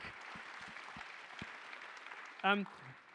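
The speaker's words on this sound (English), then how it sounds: "A round of applause." Applause from an audience at a retail festival debate, a moderate steady clatter of clapping, ending with a brief voice cutting in near the end.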